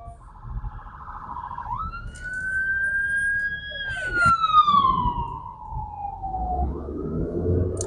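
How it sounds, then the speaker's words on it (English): An ambulance siren sweeps past a stopped pickup truck, its loud wailing tone rising as it approaches and sliding lower as it recedes, over low engine rumble. "Here comes an ambulance."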